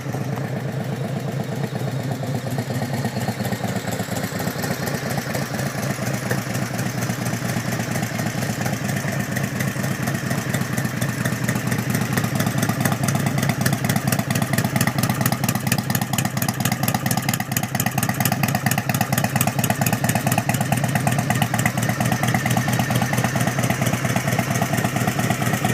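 A 1997 Harley Davidson Road King engine idles in a steady, continuous low loping rumble with fast regular pulses, close to the microphone and unchanging throughout, with no one talking.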